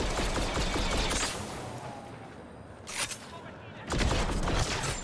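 Rapid blaster fire from a Star Wars Battlefront 2 multiplayer battle aimed at a turret, dense and continuous bursts filling most of the stretch with a brief lull before loud firing resumes.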